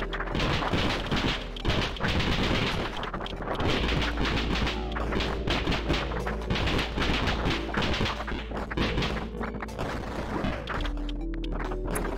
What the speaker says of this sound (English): this Uzi is real helpful at quickly thinning out the herd